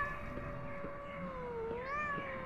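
A cat meows in the game Pathologic 2, one long, drawn-out, wavering cry that bends down and then rises, fairly quiet against a low background hum, with no talking.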